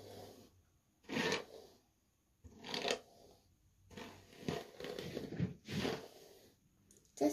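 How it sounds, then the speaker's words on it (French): Hairbrush stroking through a wig, soft close rasping swishes in a slow series of separate strokes with quiet pauses between, fairly faint overall. "on va peigner avec ma brosse"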